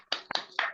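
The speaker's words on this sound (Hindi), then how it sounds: "पहले तो मैं चाहूंगा एक बार सभी लोग अनम्यूट करके एक बार ताली बज जाए" Meeting participants clap after unmuting on an online call, a brief burst of a few hands clapping in quick, uneven succession, fairly close and moderately loud, with no talking.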